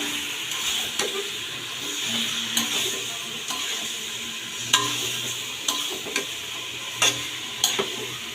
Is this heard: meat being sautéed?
yes